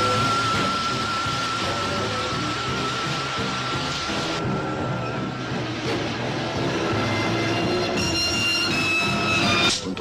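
A metro train rumbles steadily across a raised viaduct, a loud continuous roar with squealing metallic tones from the wheels growing stronger toward the end.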